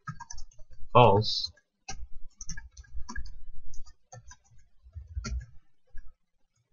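Keyboard clicks while C++ code is typed, sparse light taps spread under and between a voice speaking.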